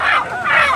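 Two quick, harsh squawking calls from a chicken close by, one right after the other.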